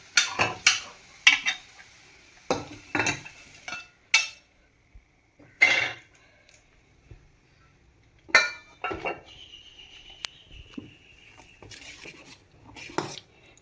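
Fried onion is stirred into kuzhi paniyaram batter, a spoon clinking and scraping against a vessel in short irregular bursts with quiet pauses between.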